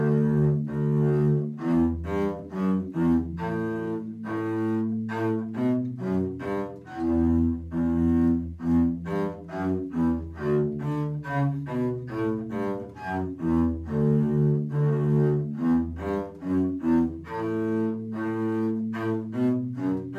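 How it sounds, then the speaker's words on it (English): A bass guitar plays the Can-Can melody, a bouncy run of clear, plucked low notes in a steady quick rhythm, alone and fairly loud throughout. "this is a tutorial on the song Can Can"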